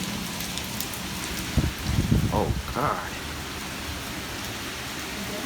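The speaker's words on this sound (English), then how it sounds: "It's hailing a little bit." Pea-sized hail pelts down during a severe-warned storm with 40 mph wind, making a continuous dense patter. A brief cluster of louder hits comes partway through, and a man lets out a short exclamation.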